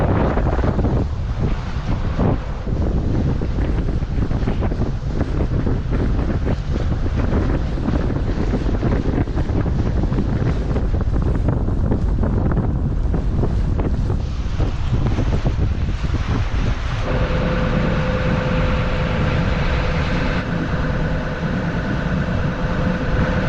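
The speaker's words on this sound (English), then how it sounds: "Just as we've arriving at Makkum, the wind is picking up" Strong wind buffets a boat as it arrives at Makkum on the IJsselmeer, a loud steady roar of gusts and rushing water that fills the whole stretch, with a faint engine-like hum coming in near the end.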